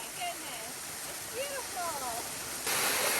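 A waterfall on a Southern California hike gives a steady, broad rushing roar throughout, getting slightly louder near the end, with faint voices and whistly tones above the water.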